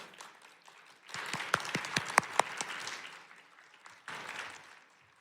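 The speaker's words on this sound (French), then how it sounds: "Est-ce qu'on peut l'applaudir?" An audience applauds author Angèle Delaunois at a book fair, a modest crowd of fairly close clapping with several distinct sharp claps, building up and then tapering off in a quieter room.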